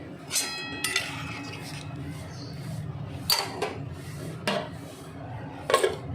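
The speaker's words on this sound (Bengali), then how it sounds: "ঢেকে দিলাম আলুটা যাতে ভালো মতো সেদ্ধ হয়।" A lid goes onto a cooking pot of potatoes, giving a few sharp metallic clanks and clinks, with softer rubbing scrapes in between, close by in a quiet kitchen.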